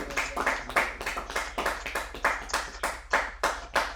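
Steady rhythmic clapping by a prayer congregation acclaiming the Lord, close and even, about three claps per second over a low constant hum, with no voices.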